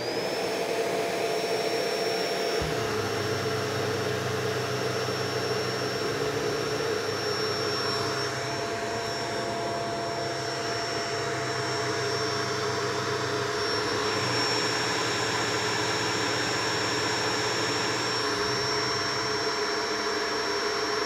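A Shark NV771 LiftAway DuoClean vacuum cleaner with a brushroll that keeps shutting off runs with a steady high-pitched motor whine, while a lower hum drops in and out a few times, close and continuous without speech.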